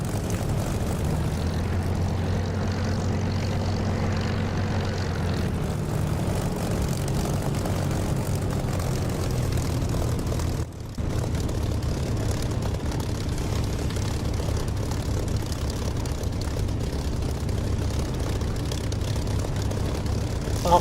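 Propeller aircraft engine in the DCS flight simulator during takeoff, a steady loud droning hum that holds its pitch throughout, with one brief dip near the middle.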